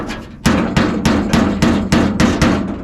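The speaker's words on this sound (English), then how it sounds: "We're just gonna bump around like that with the dolly itself." A body dolly striking a dented car body panel during DIY dent repair, a loud, close series of about eight evenly spaced metallic whacks, each with a brief ringing tail, and no talking.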